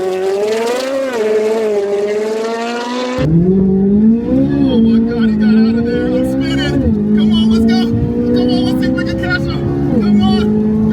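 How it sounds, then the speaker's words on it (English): A 670 hp Corvette C8 Z06 roars through a burnout, its loud, harmonic engine note climbing and dropping in repeated revs across the whole stretch, with tire noise mixed in. "I gotta do a burnout real quick so I can clean off my tires"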